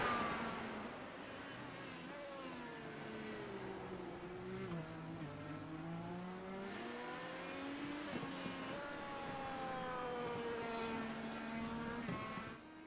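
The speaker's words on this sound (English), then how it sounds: "5th gear, 6th gear. Cosworth power. Climbing up the hill." An Indycar with a Cosworth engine climbs uphill at Laguna Seca in iRacing, its high-pitched engine note rising steadily through the gears, sustained and fairly near across the whole clip.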